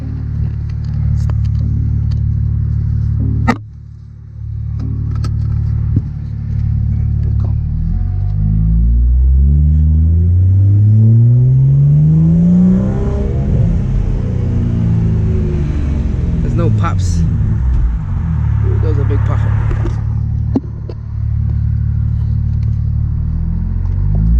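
BMW F30 with a B58 engine, Agency Power intake and VRSF charge pipe, heard from inside as the engine rumbles and revs up in a long rising sweep, with turbo whoosh and intake suction, under occasional cabin noise.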